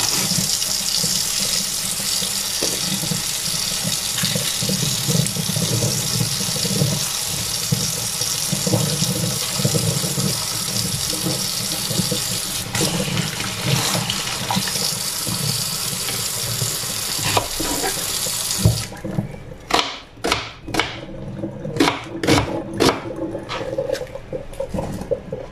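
Water runs steadily from a tap into a pot while cooking nilagang beef shank, a loud continuous hiss lasting most of the time, then stopping and giving way to scattered clinks and knocks.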